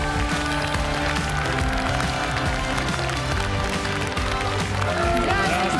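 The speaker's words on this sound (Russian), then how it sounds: "Ваши аплодисменты бурные!" Studio audience of a morning talk show applauds a guest's entrance, steady dense clapping under loud band music with sustained tones throughout.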